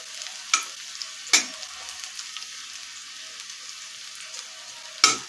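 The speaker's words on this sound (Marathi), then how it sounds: "लसूण थोडंसं गोल्डन ब्राऊन होईपर्यंत परतून घ्यायचा" Crushed garlic cloves frying in a pan while being stirred, a soft steady sizzle punctuated by three sharp scraping strokes of the spatula, close and alone without talk.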